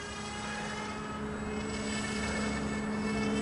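Small electric-ducted FRCfoamies F-18 prototype RC foam jet flying overhead, a steady whining hum with broad windy rush that holds level and swells slightly over a few seconds, no voices.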